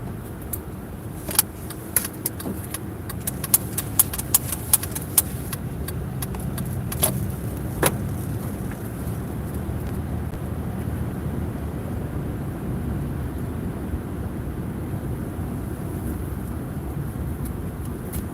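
A car driving at night back up a mountain road in the Catskills, a steady low road and engine rumble throughout with faint jangling clicks early on, no talking.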